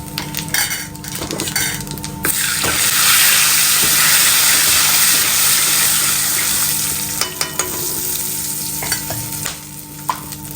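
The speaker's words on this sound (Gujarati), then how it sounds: "આ બાજુ તેલ ગરમ થઈ ગયું એટલે અંદર નાખી દેવું જીરું, તમાલપત્ર," Cumin, bay leaf, cloves and asafoetida hit hot oil for paneer curry, giving a loud, steady sizzle and crackle throughout with occasional spoon stirring and clinks of a pan.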